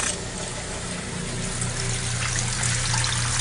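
Water gushes and trickles steadily as the pump of a Maytag Model 30 washer empties the tub, a continuous close rushing with a low motor hum underneath.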